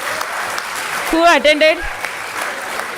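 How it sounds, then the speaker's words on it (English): Lecture audience clapping at a foundation day event in Hyderabad, a steady broadband patter of many hands running under a short spoken interjection in the middle. "Now you can clap."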